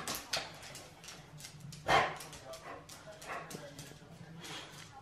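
A dog playing with toys gives a few yips and whimpers and one sharper bark, fairly faint and close indoors, with a voice talking intermittently around it.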